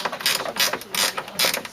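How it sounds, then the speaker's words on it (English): Ratchet wrench clicking in quick bursts while working on a BMW E90 328i 3 Series, close and crisp, with three or four spurts of rapid ratcheting separated by brief pauses. "Pretty nifty ratchet."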